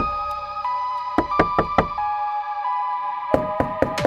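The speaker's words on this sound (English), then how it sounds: "3 distinct, heavy thuds echoed against my wooden door" Heavy knocks thud against a wooden door in tight bursts, a quick run of four blows followed after a pause by another cluster of four, loud and close with a faint hum beneath.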